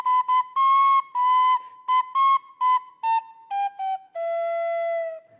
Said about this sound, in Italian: Allora il re prese il flauto e cominciò a suonare.